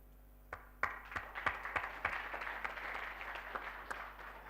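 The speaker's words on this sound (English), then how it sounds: "I think that was the hand clap for the last speaker." An audience at an event applauds a departing speaker, with a few scattered claps swelling into sustained clapping from a moderately distant crowd over a steady low hum.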